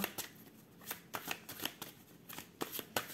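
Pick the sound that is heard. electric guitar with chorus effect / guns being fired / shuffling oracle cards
shuffling oracle cards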